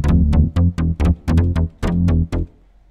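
Clean synth bass without distortion, a bike bass sound for South African deep house, plays a short punchy riff of about ten plucked notes in quick rhythm, loud and isolated before trailing off.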